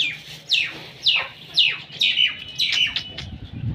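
Chickens squawk close by at feeding in a series of about seven sharp, high calls, each sliding downward, with short gaps between them.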